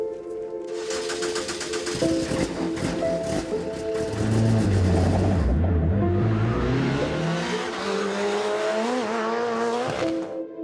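Rallycross cars roar past with high revving engines and rising and falling pitch, gear changes and tire squeal, loud and close, with no talking.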